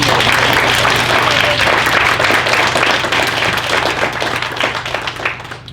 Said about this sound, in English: can we all give you a round of applause?